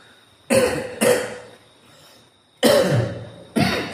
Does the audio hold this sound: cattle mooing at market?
no